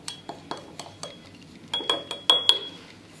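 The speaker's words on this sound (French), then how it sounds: "on mélange le tout avec le dos de notre grande cuillère" A large spoon stirring vinegar and food colouring in a glass container, its back knocking against the glass in a series of clear, regular clinks that grow louder and brighter toward the end.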